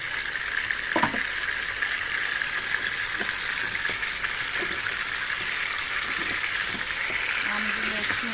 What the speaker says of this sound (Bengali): আমগুলো একটু নাড়াচাড়া করে তেলের মধ্যে